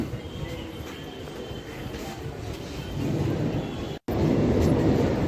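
A main-line train rolls through Bally station on the Howrah line, a steady rumbling clatter of wheels on rails that grows louder toward the end, heard from the platform.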